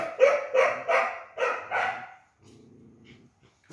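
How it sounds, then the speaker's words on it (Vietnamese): A dog barks fiercely in a run of about five loud, close barks, then goes quiet apart from a low rumbling growl. "nó sủa dữ dằn lắm"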